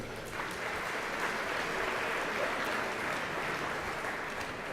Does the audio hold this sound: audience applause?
yes